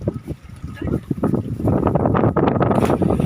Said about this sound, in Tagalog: Malakas ang hangin kasi po amihan ngayon.